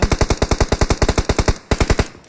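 Video game shooter gunfire: a loud, close, rapid automatic burst of evenly spaced shots, a brief pause, then a short second burst, with no talking.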